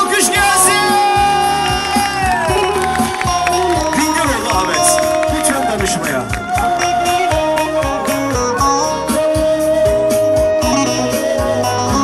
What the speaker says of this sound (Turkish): Kazım Kuyucu'ya bir alkış gelsin